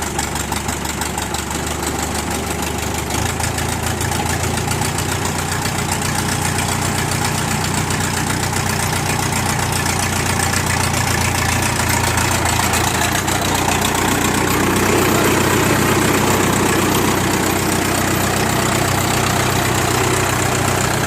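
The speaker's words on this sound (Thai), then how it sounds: "เครื่องติดง่ายครับ" Vehicle engine starting and settling into a steady, loud idle with a constant low rumble and slight knocking vibration, running alone without talk for about twenty seconds.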